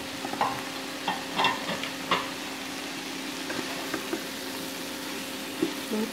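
Crumbled bread is stirred into a hot frying pan, a soft steady sizzle with intermittent scraping and clinking strokes of a spoon, close and moderately loud, no voices.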